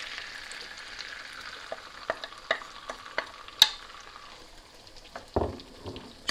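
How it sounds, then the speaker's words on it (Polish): Chopped onion dropped into melted butter in a pan gives a soft, steady sizzle, broken by scattered sharp clinks and taps of stirring, with a louder clatter near the end. "Wrzucamy cebulę."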